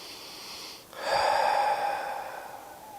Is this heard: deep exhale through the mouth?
yes